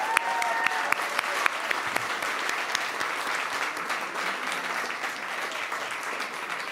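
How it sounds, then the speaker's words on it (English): An audience applauds at an evening speakeasy-style event, steady dense clapping sustained throughout with a few sharper claps standing out near the front. "Big round of applause for all of our amazing speakers tonight."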